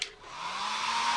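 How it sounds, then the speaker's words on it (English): A blow dryer used during a crafting session switches on with a click and settles into a steady, close, loud whooshing hum with a faint motor whine, heard alone. "you can hear me use the blow dryer"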